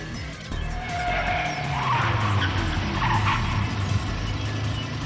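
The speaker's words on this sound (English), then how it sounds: "The rear tires slipped." A car's rear tires slip and it spins in a circle in the Steins;Gate 0 visual novel game, giving a loud, drawn-out tire screech and skid over engine rumble, with no voices.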